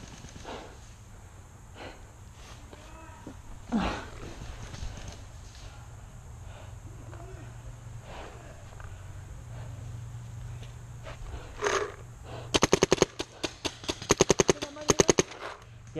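Empty paintball marker out of paint, an Empire Mini GS, firing only air on an outdoor field: a quick volley of sharp dry pops near the end, with scattered softer clicks and footsteps before it.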